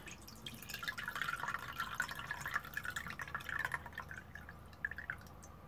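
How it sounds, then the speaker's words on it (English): Cooking water draining from a pot past a slightly lifted lid, with zucchini and maize inside: quiet, irregular splashing and dripping that trickles unevenly, then thins toward the end. "and then let the water go out."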